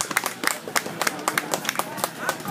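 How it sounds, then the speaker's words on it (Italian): Scattered outdoor clapping from a small group of spectators at an Italian trial motorcycle championship section, distinct individual claps in an irregular rhythm, moderately close and fairly light. "Facciamo un applauso all'assistente di Garzotta."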